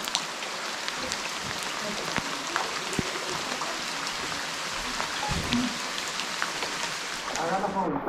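Steady rain falls in Gali Zorgavan in the Barzan area, a constant close hiss of drops on surfaces with scattered pattering and a brief low rumble partway through.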